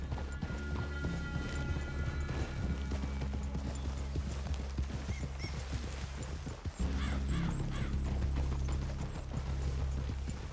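Horses in Red Dead Redemption 2 clop their hooves in a steady rhythm near a forest clearing, with a whinny and snorting mixed in over a low ambient game soundscape, fairly quiet and without speech.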